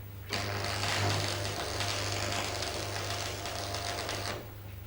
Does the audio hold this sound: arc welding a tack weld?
yes